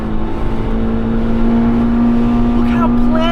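A Honda Civic EF9 SiR with a B16A VTEC engine and Mugen ECU revs hard while driving, a steady high-pitched engine drone that climbs slightly, loud and close with road noise.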